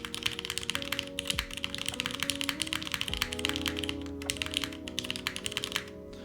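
Someone types steadily on a mechanical keyboard, producing close, crisp rapid key clacks with a brief pause near the end and a low hum beneath.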